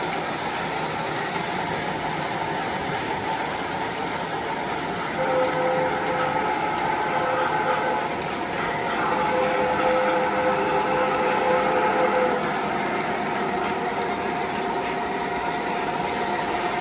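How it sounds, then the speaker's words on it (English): Model trains run on a home layout while an E8 locomotive rolls past, giving a continuous close rumble with light clicking rail noise and faint whirring motor tones that swell slightly midway. "And the old E8 just passing by."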